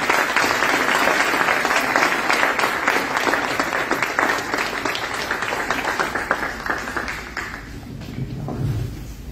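An audience at a foundation talk claps enthusiastically, a dense burst of applause that stays loud for several seconds and then thins and fades toward the end.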